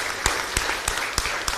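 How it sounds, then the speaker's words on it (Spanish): A church congregation applauds at a chapel feast in Aregua with brisk, evenly timed claps, about three per second, close and loud against a dense wash of background clapping. "Y un fuerte aplauso para usted"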